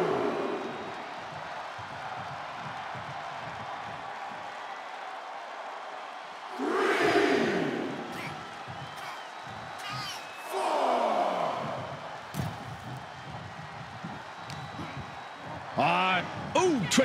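Crowd noise from a WWE 2K wrestling match between Dusty Rhodes and Ted DiBiase, swelling in loud bursts of cheering between quieter stretches, with a commentator talking over much of it.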